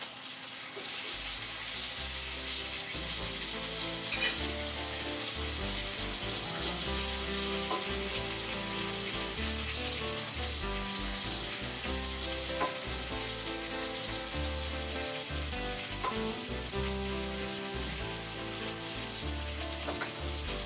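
Already-cooked chicken pieces for pesto chicken browning in a hot pan, turned with tongs: a continuous sizzle sitting under steady background music, with occasional light clinks.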